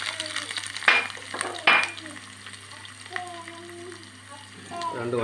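Finely chopped shallots sizzle in hot oil in a pan for a dal curry with spinach, a steady soft frying hiss broken by a couple of louder stirring clatters, with quiet background tones.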